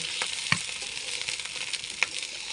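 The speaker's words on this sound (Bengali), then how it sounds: "পরিমাণ মতো লবণ, হলুদ, এবার ভাজতে থাকবো খুদগুলো" Broken rice fries in a pan with salt and turmeric, a soft continuous sizzle with a couple of sharp ticks from stirring.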